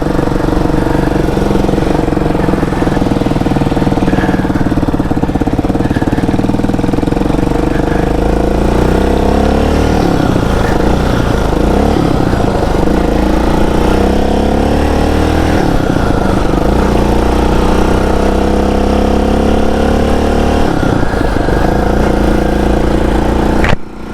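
A homemade Frankenbike motorcycle engine runs loud and steady close by, its pitch climbing and falling as it revs through the gears, with no voices over it.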